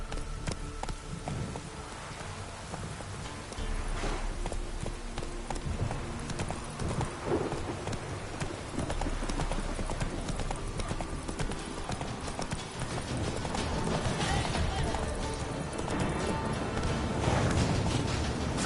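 Roach, a horse in The Witcher 3: Wild Hunt, gallops with a steady, rapid clip-clop of hooves that runs on for the whole stretch, carried on a low, constant rumble of wind or rain.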